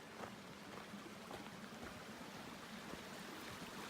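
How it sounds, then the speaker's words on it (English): A creek flows under a bridge along the Three Sisters Loop in a forest burned in 2017, giving a soft, continuous rushing and gurgling of water, fairly faint and unbroken, with no voices. "here's the bridge and the creek coming up"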